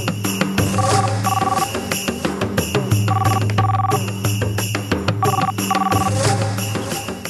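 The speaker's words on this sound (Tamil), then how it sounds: "ஃபோன் பண்றேன், அவர் பேசுறது நீங்களே கேளுங்க" A telephone ringtone plays while a call is placed in a Tamil television drama, with short melodic bursts repeating in pairs over a dense, steady musical bed. No one speaks.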